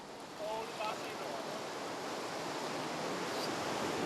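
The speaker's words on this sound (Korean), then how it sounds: "한쪽 귀로는 산호초 바다의 평화로운 물결 소리를" Gentle waves lap against the shore of a coral reef sea on a tiny, narrow Pacific atoll in Tuvalu, a steady, soft wash of surf close by with no voices.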